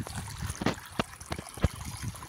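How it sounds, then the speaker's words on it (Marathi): Borewell water trickling and splashing into a farm field planted with chilli and cluster beans, a steady close gurgle with a few brief louder splashes. "पाणी बोरचं पाणी येतं, छोटासा बोरचं पाणी येतो, हे बघा पाणी चालू आहे सध्या"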